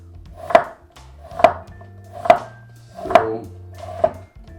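A knife slices a root vegetable thinly on a cutting board, five crisp, evenly spaced chops close up with a board thud under each, and no voices.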